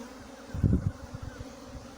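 Honeybee swarm buzzing during a capture, a low droning hum with a brief louder surge near the middle before settling back into a steady murmur.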